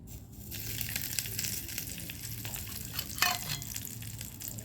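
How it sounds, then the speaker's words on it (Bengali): Fish fries in hot oil with a continuous, close sizzle, broken by a few scraping and crackling bursts as a utensil moves through the pan. "তেলটা গরম হয়ে গেছে, আমি এবার মাছটা দিয়ে দেব।"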